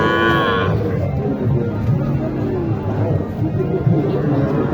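Cattle at a busy rural livestock market, where a bull-calf sale is under way, give a low, close moo at the start against a continuous murmur of crowd voices and chatter.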